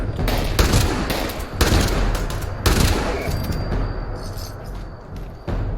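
Rapid bursts of video game gunfire crackle repeatedly in heavy volleys, loud and close, with short gaps between them and no speech.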